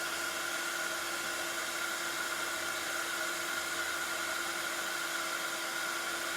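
Heat tool blowing hot air onto tape for heat embossing, giving a steady, even whirring hiss with a constant tone that stays unchanged throughout, no speech.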